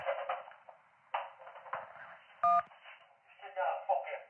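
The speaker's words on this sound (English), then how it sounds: "If you can't talk, please press any digit on your phone" A phone keypad press during an emergency call gives one sharp, loud DTMF digit tone midway, cutting through a caller's muffled, distorted voice on the phone line before and after.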